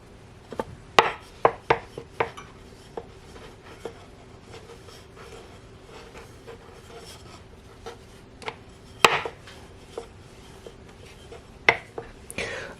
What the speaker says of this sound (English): Let's roll up the rest of the dough.